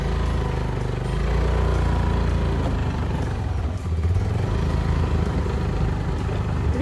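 A scooter engine runs steadily after starting on a rural areca nut farm, a close continuous rumbling drone with slight clatter and no talk.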